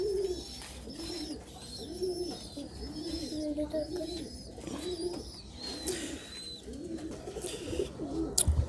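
A female pigeon coos softly in repeated low, throaty calls at a gentle rhythm, nearby but fairly quiet, with faint chirps and background noise around it.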